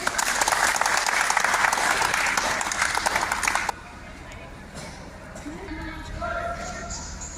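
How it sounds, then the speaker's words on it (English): An audience claps at a school science exhibition, dense applause for almost four seconds that cuts off abruptly, followed by quieter room noise and faint voices. "Let's clap, please."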